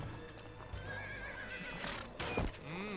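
Donkey in the Shrek 2 video game lets out a loud, clear horse neigh, with clip-clop hoofbeats and game sounds around it and no talk.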